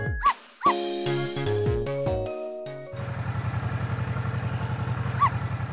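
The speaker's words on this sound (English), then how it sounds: "I barked. You bet I did." Dog barks and yips from the Ghost Trick video game, several sharp barks at the start, then a steady rapid mechanical rumble under an occasional further yip.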